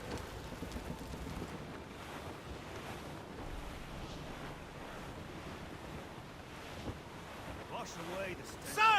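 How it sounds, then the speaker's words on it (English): Wind howls steadily over the open sea in the Assassin's Creed Rogue naval game, a continuous rushing roar mixed with surging waves around a sailing ship, moderately loud, with a brief voice near the end. "Wind's getting vicious."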